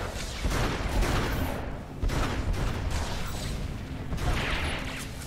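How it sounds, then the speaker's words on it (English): Shotgun blasts in the video game Star Wars: The Old Republic, a run of loud, dense bursts and booms layered over busy combat noise, with no voices. "Oh, he's using freaking shotguns,"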